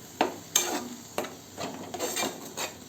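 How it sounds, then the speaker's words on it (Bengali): A spatula stirs fish curry masala (parshe fish bhuna) in a pan in a few distinct scraping strokes, with a soft sizzle beneath, close and alone with no voices. "এটাকে যতক্ষণ না তেল বেরোচ্ছে ততক্ষণ একটু নাড়িয়ে নেব,"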